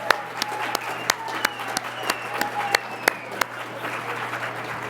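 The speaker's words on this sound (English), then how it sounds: "We'll give them a last round of applause." Audience applause for honorees at the end of the McGill Bravo Gala 2023 ceremony, steady clapping from a seated crowd with a few sharp distinct claps over a low hum.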